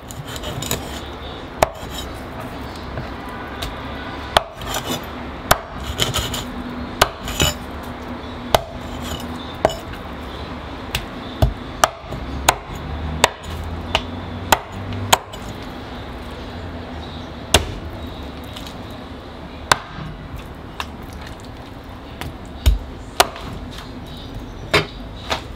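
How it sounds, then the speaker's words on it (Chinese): Fish bones being chopped into small pieces with a cleaver, heard as repeated sharp close knocks on a cutting board at an irregular pace over a low steady background. "像这鱼骨啊，就把它剁成小"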